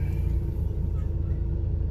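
Steady low engine rumble of a V10 Dodge Ram 3500 pickup reversing slowly into a parking spot, heard from inside the cab, droning evenly without revving.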